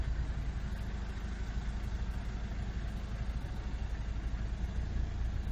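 A car engine idling low and steady while the car creeps slowly into a parallel parking spot during a driving exam, a quiet continuous hum with no break.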